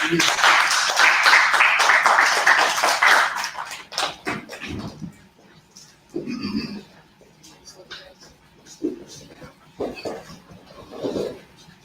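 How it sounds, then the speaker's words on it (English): A class audience claps together loudly for about four seconds, the applause ending in a few scattered claps before speech takes over. "Clap it up, you guys."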